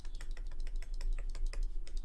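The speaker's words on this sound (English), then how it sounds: "I'm changing the brush opacity with keyboard shortcuts" Rapid keyboard shortcuts tapped on a computer keyboard while adjusting brush opacity in Photoshop, a quick run of crisp, close clicks spread over two seconds against a low steady hum.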